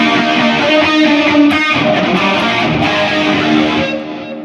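Electric guitar played through a Soldano SLO100 amplifier with heavy distortion, a loud, dense sustained tone with shifting chords for several seconds, fading down toward the end, with no voices.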